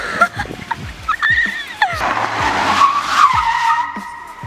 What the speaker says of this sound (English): if the tires screech and lock up, that the brakes are too powerful for the tires